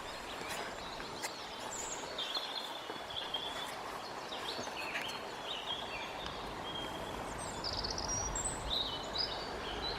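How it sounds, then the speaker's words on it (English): Springtime birds sing outdoors among blossom, with chirps and short trilling phrases over a steady wash of ambient noise. The birds sound fairly distant and keep calling throughout. "Just listen to the birds."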